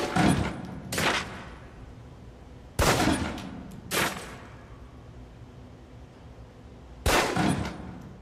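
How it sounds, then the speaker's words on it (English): Pistol shots fired at a target range in Alpha Protocol, five sharp cracks spaced irregularly over several seconds, each followed by a short decaying echo and quiet gaps in between. "Equip the pistol, then aim down range and take some shots at the target."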